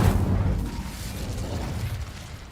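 Casting the Incendio fire spell in Hogwarts Legacy gives a heavy, booming whoosh with low rumbling roar that stays loud and sustained throughout.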